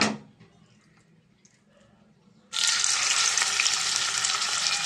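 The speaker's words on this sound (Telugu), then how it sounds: "ఆయిల్ అయితే వేడైంది ఇప్పుడు మనం చికెన్ పీసులు వేసుకుందామండి" Chicken leg pieces go into hot oil in a kadai: a quiet stretch gives way to a sudden loud, sustained sizzle and crackle of frying that continues close up to the end, with no speech.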